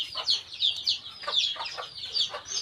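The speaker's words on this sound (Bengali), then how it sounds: "এই মুরগিগুলোকে আমি খাবার দিচ্ছি" Several chickens cluck in short, repeated bursts close by, a busy, uneven chatter with no talking.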